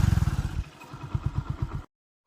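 A motorcycle engine runs during a ride, with a low, pulsing mid-range rumble and clattering beats for nearly two seconds before the sound cuts out abruptly, then briefly returns.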